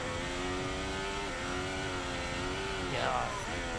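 A Formula One car's engine at the Miami Grand Prix drones loudly and steadily in sustained high revs, dipping briefly, then a sharp pitch sweep near the end as the car spins and taps the wall.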